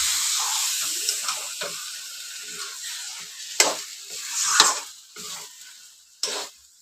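Chicken is added to spice masala in a hot pan for chicken biryani, giving a hissing sizzle with stirring scrapes and several louder spitting bursts, close and clear.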